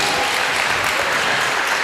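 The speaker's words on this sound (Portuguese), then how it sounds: "Vamos aplaudir ao Senhor" A church congregation claps steadily and densely, a continuous wash of applause from many hands with no voices standing out.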